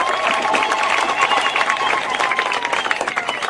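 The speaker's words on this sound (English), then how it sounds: "can we give a round of applause to the Chief Guest, PS Dr. Omar Luga." Loud, steady applause from an audience at a hospital handover ceremony, clapping for the chief guest, dense and continuous throughout with faint crowd voices mixed in.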